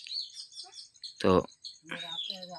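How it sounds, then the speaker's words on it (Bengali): A pair of pedigree pigeons kept by a fancier calls from close by in short, bright chirps and twitters, with one brief spoken word cutting in partway through. "তো এক পেয়ার কবুতর দেখাচ্ছি"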